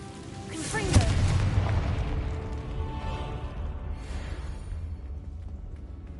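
A Confringo fire spell bursts in Hogwarts Legacy with a loud low boom. A rumbling, fiery roar follows and fades slowly over several seconds, with a voice under it.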